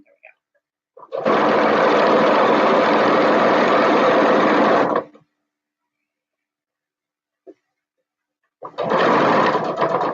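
Two bursts of a sewing machine whirring steadily, a long run of about four seconds, a pause with a faint tap, then it starts again.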